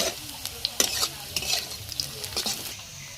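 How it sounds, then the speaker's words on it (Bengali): Onions fry with a spice paste in a pan, giving a steady close sizzle broken by sharp scraping and clicking strokes of a spatula as the mixture is stirred. "তো এটা কিছুক্ষণ ভাজবে। পেঁয়াজ ভাজা প্রায় হয়ে গেছে।"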